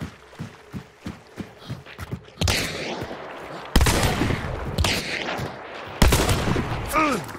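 Silenced gunfire sounds in a first-person shooter video game, starting as a rapid series of soft evenly spaced thuds and followed by louder bursts and heavier shots with a swirling game sound.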